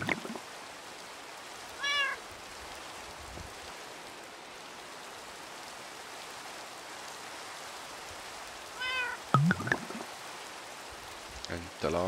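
A cat meows in the Minecraft video game, several short mewing calls near 2 s and around 9–10 s, with faint rain-like ambience between them and no talking.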